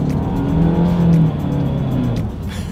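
A 2020 Nissan Altima with a naturally aspirated 2.5-liter engine accelerating, giving a steady, moderately loud drone with road and tire noise that climbs in pitch and then eases.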